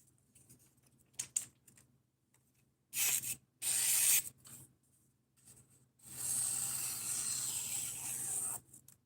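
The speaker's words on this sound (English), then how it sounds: "sharpening knives for somebody" A knife being sharpened on a whetstone, heard as a few scattered scrapes followed by longer bursts of gritty rasping strokes, separated by quiet pauses, close and fairly soft.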